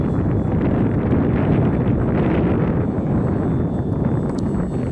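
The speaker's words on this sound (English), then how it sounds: "Look what the wind is doing." Wind gusting across an open model airplane flying field, buffeting the microphone in a constant loud roar with rustling texture and no talk.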